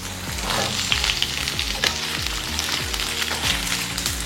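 Green chilies and ivy gourd frying in a pan, a dense crackling sizzle with frequent popping and spattering close up, steady throughout and with no one speaking.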